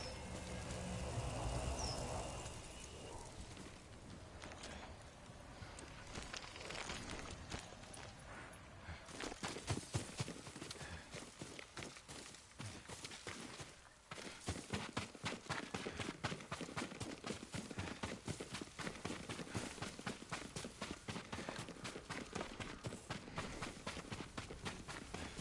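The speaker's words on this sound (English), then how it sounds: "Yuriko's horse. She can't be far." Horse hooves gallop in the Ghost of Tsushima video game, a dense, fast run of hoofbeats that starts after an opening stretch of ambience and carries on steadily to the end, with faint bird calls around it.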